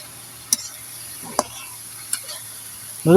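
Lentils stirred in a pan, biryani-style: a faint background hiss broken by three sharp spatula taps, then a louder burst of sizzling and scraping at the end.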